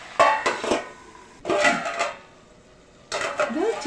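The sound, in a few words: lid placed on cooking pot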